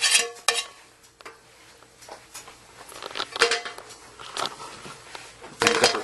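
Spaghetti bolognese is tipped into a colander to drain, giving irregular bursts of splashing and clattering metal scrapes near the microphone, with short pauses between pours.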